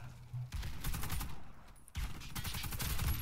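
Uzi gunfire in the shooter game Warface, loud bursts of rapid automatic fire with a brief pause in between, dense and close throughout.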